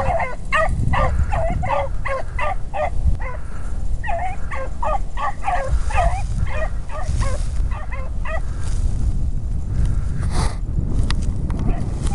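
A pack of beagles bays and barks continuously while chasing a rabbit in the field, with overlapping rhythmic yelps close by throughout and someone speaking over them.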